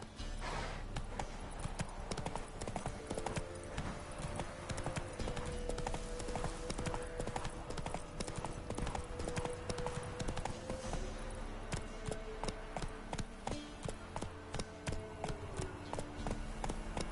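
Geralt's horse Roach galloping in The Witcher 3, fast rhythmic hoofbeats pounding continuously and close for the whole stretch, over steady game ambience.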